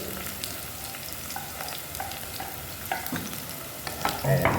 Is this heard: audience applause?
no